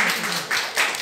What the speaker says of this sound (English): Claps for them. Clap for them.